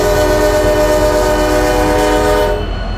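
A commuter locomotive horn in the RO Scale Sandbox train game sounds one long, loud, steady multi-tone blast for about two and a half seconds, then cuts off abruptly.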